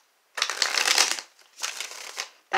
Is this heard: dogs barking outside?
no